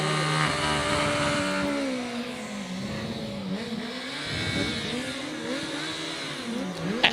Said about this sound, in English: the rocket from Richards Bay certainly knows what to do to get this bike up the hill fast